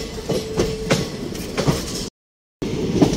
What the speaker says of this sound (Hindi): दोस्तों एक ट्रेन आ रही है, उसमें भी WAP-5 लोकोमोटिव लगा हुआ है